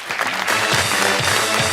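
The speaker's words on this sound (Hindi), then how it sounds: "तालियां" A burst of clapping from a studio audience on a talk show, dense and steady, filling the short moment without any talk.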